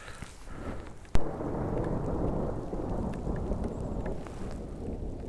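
Heavy rain pours steadily in Nepal along the Pokhara to Burtibang road, with a single sharp, loud thunder crack early on followed by a constant rushing downpour.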